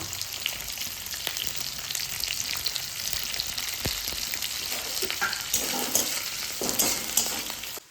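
Onion and garlic frying in hot oil for fish chilli, a steady close crackling sizzle with sharp pops and spatula scrapes throughout, no talking.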